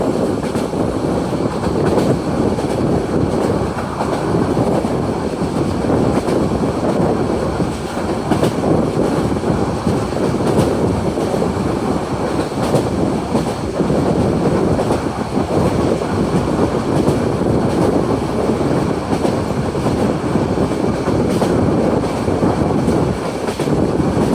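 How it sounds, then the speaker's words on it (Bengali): The Cox's Bazar Express, a nonstop Dhaka-bound train, runs through Akhaura railway station at speed: a loud, continuous roar of wheels and rolling stock with rhythmic rail clatter and occasional squeal, sustained close by for over twenty seconds. "আখাউড়া রেলওয়ে স্টেশন দুরন্ত গতিতে থ্রু পাস করে যাচ্ছে।"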